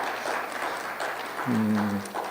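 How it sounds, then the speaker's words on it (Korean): Audience applause at a theology forum, a steady wash of clapping throughout, with a brief sustained tonal sound rising over it near the end. "우리 박수로 함께 해주시죠."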